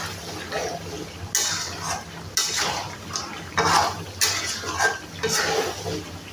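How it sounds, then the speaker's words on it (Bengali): Mutton being sautéed in a pot with oil, stirred in bursts of scraping and clattering against the pot, close and moderately loud, with no talk. "খাসির মাংসটাকে আমি আরও 2-3 মিনিট ভালোভাবে কষিয়ে নিব"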